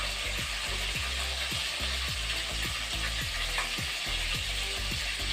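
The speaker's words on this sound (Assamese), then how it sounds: "মই ফাৰ্ষ্টে মাছখিনি ফ্ৰাই কৰি লওঁ" Continuous crackling sizzle of fish frying in a pan, with a steady low mechanical whir and repeated clicking ticks underneath, no voices.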